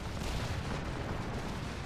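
Cannons fire in a Napoleonic-era Total War strategy battle, making a continuous heavy low rumble of booms and blasts that fills the whole short stretch.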